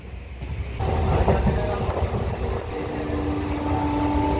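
Rajya Rani Express bound for Bangalore running at speed, heard from on board as a continuous rumbling roll with light rhythmic clatter, swelling slightly after a moment and holding steady, no one talking.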